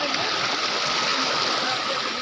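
Crystal-clear stream water at a tourist spot in Pagudpud, Ilocos Norte rushes and gurgles close by in a steady, loud, unbroken flow with splashing texture.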